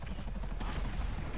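A helicopter in GTA 5 Online drones with a steady rotor thump and a low engine rumble, continuous and close, with no voices over it.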